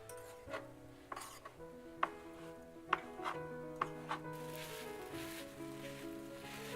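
Food being stirred and cut while cooking, a series of sharp utensil knocks and scrapes against a pot or pan at irregular intervals, fairly quiet and close, over a soft sizzling background.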